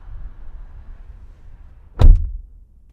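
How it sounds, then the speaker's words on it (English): A single solid car door thud on a 2020 Dodge Charger 392 Scat Pack Widebody after a couple of seconds of quiet, muffled background, followed by a brief low rumble fading out. "what do you guys say we shut the door on the Scat Pack?"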